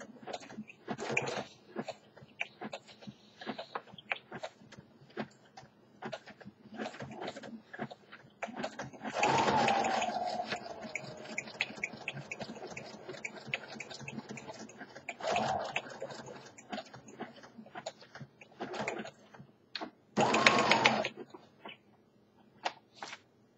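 Sewing machine stitching a curve through a sunflower junk journal page: a quiet, steady run of fine ticking stitches with a few louder, denser bursts, interrupted by short pauses.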